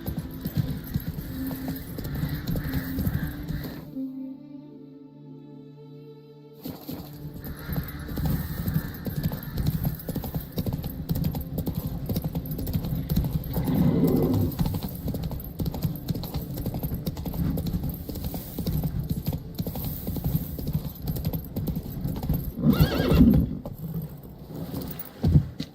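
A horse gallops in The Witcher 3, its rapid, steady hoofbeats continuing for most of the stretch, with a short break into a quieter musical passage before the galloping resumes.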